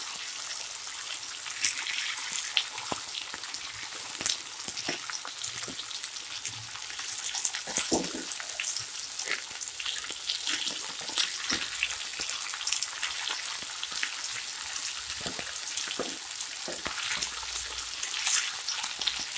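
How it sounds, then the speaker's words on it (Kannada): Lemon pepper chicken fries in a pan over a flame, a constant soft sizzle with scattered small pops and crackles for the whole stretch, fairly quiet and close, no talking. "ಐ ಫ್ಲೇಮಲ್ಲೇ ಇನ್ನೊಂದು 5 ನಿಮಿಷ ಫ್ರೈ ಮಾಡಬೇಕು"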